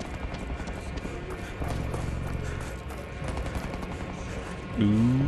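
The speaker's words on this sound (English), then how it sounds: "There's gunfire somewhere." Gunfire crackles in a first-person shooter on PS5, a Homefront: The Revolution walkthrough, with distant rapid bursts under a steady game ambience and a sharp tonal effect at the end.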